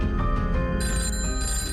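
Telephone ringing in a promo for a live phone-in advice show for farmers, a steady bright ring that runs the whole way through, layered over music-like tones, with no talking.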